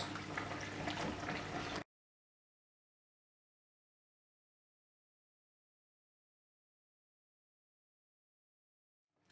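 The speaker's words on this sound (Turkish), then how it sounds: "Azar azar birer kepçe çorbamızın suyundan ekliyoruz." Hot soup broth is ladled into a yogurt sauce for a Turkish yayla soup with wheat, giving a short, close pour and splash of liquid that lasts under two seconds before the clip falls silent.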